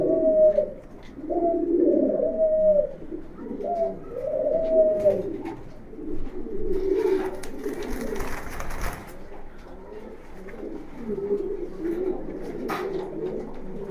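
Archangel pigeons coo in a loft, a run of repeated throaty calls early on, then softer cooing with a brief rustle in the middle, nearby and without voices.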